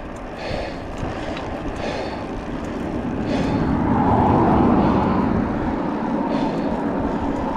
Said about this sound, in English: off to the right, I keep thinking I'm hearing a helicopter.